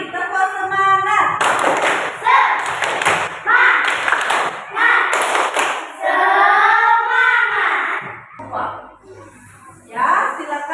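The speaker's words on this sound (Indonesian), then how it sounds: "Lagi sekali, tepuk semangat." A classroom of pupils claps the 'tepuk semangat' cheer together in rhythmic bursts of thuds and claps, close and loud, with a teacher's voice and children's voices running over and between the claps.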